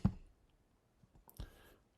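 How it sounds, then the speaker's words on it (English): A computer mouse is double-clicked, heard as a sharp near click at the start and another quick clicking burst about a second later, faint and crisp in a quiet room with no speech. "I can play one by double clicking"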